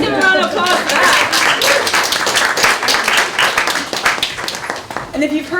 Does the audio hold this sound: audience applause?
yes